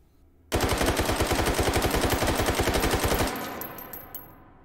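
A prototype AK-12 rifle chambered in 5.45x39mm fires a single long full-auto burst in the H3VR virtual reality game: rapid, evenly spaced loud shots for about three seconds, then a fading ringing tail.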